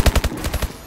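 Rapid automatic gunfire from a weapon in the video game Call of Duty: Advanced Warfare, a short loud burst of about seven evenly spaced shots in under a second.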